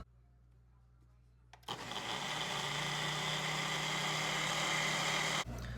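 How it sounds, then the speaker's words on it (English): A Ninja blender starts with a click and roars steadily at high speed for several seconds while foaming a chai drink, before abruptly cutting off, loud and close. "I'm going to blend this in my Ninja blender for about 20 seconds"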